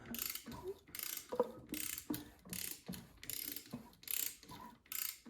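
A Honda dirt bike engine is turned over slowly by hand, the cam chain and sprocket giving a regular series of ratcheting, whirring mechanical pulses close up and faint, with no talk.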